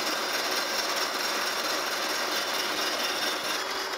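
Milling machine cutter at 250 RPM taking a cut across a camelback straight edge, a steady dense grinding rasp that holds level throughout with no talk.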